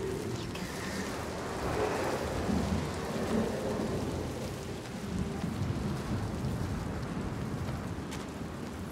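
Thunderstorm of the sea giant in a video game: steady heavy rain with rolling thunder rumbling throughout, dense and continuous with no voices.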